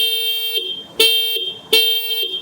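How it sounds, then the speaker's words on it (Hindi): Horn of a Bounce Infinity E1 electric scooter sounded three times in short succession, a sharp, shrill electric beep heard close and loud with brief gaps between presses. "काफ़ी तीखा सा इसका हॉर्न है।"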